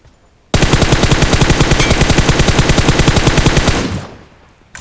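Sustained automatic gunfire in PUBG Mobile aimed at a vehicle: a loud, rapid, evenly spaced burst of shots lasting about three and a half seconds, then cutting off into a fading tail.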